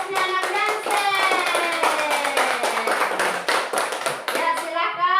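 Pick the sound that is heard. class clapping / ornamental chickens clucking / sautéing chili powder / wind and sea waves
class clapping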